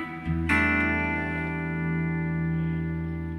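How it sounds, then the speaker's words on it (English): An electric guitar strikes a clean chord that rings out and sustains, shaped by a Line 6 Helix dynamic plate reverb in a clean tone, with a smooth lingering tail. "because we want that posh sounding reverb."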